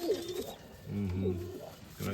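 Crested fancy pigeons coo in a dovecote, giving several soft, throaty rolling calls close by, with a short gap between bursts and a quiet voice in the background.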